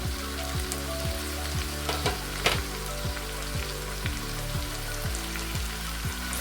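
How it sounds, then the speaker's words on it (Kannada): Capsicum, carrot and green beans frying in hot oil in a pan for vegetable basmati biryani, giving a steady, close sizzle with a few brief stirring clatters and no voices. "ಇದೆಲ್ಲ ಚೆನ್ನಾಗಿ ಫ್ರೈ ಆಗಿದೆ"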